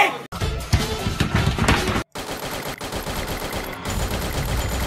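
In the Free Fire video game, bursts of gunfire crackle in rapid, dense volleys. Two brief silent gaps split the firing, which continues loud and close throughout.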